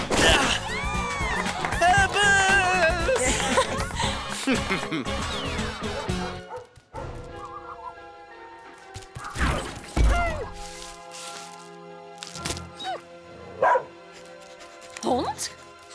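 A cartoon dog barks and yips a few times after a stretch of busy talk and music in a Disney Channel animated show, with short sharp bursts spaced out near the end.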